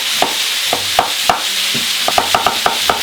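Chopped onion sizzling and frying in a pan while a utensil stirs it, a steady hiss broken by a dozen or so sharp scraping strokes in a quick, uneven rhythm, close and alone.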